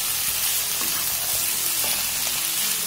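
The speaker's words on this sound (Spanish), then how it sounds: "Vamos a mezclar bien para que no se queme la parte de abajo." Peas and other ingredients stirred in a cooking pot while they fry, a continuous close sizzle with soft scraping of the spoon along the bottom, no talking.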